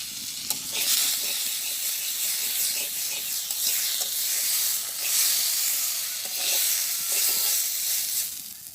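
Vegetables fry in hot oil in a pan with a loud, continuous sizzle and hiss, swelling and easing in waves, with faint clinks now and then and no speech.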